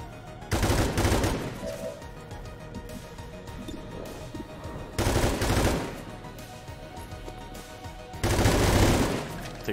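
Gunfire in the video game XCOM 2 comes as three separate loud blasts spaced a few seconds apart, each a broad roaring burst that fades, with quieter game ambience between them.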